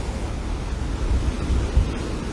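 Wind and surf on a Barbados beach at Cattlewash, a steady broadband roar of breaking waves mixed with gusty wind buffeting the microphone, continuous and fairly loud with no voices.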